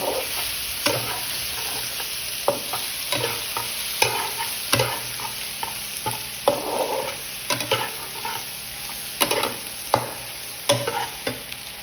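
Egg being stirred with sliced ampalaya in a frying pan, a continuous sizzle broken by repeated spatula scrapes and taps in an uneven rhythm, close up with no talking.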